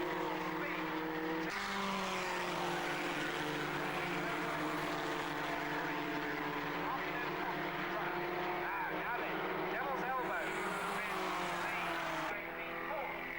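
Racing cars pass during a race at Mallory Park, their engines droning and rising in pitch as the pack approaches, with sustained whining tones under a commentator's voice.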